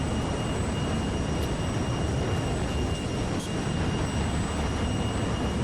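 Jet engine afterburner in a flight simulator game, a dense, steady roar held at a constant loud level throughout, with no speech.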